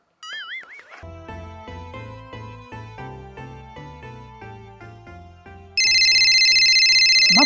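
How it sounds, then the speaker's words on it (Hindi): Mobile phone ringtone in a rural home setting, a bright repeating melodic electronic tune with steady rhythmic notes, joined near the end by a louder sustained buzzing tone, clear and close with no talking. "मैं फोन बजनू जाए"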